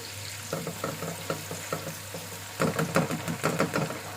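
Ginger garlic paste being stirred into frying chicken karahi, with a steady sizzle under repeated scraping strokes of a spoon against the pan that grow busier toward the end.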